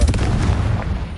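Confringo fire spell blast in Hogwarts Legacy, a single loud, close, booming burst with a rumbling tail, brief and forceful with no voices.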